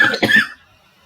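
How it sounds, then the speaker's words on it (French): A woman gives a single short, harsh cough up close, a quick burst that cuts off into near silence. "Excusez-moi, je tousse"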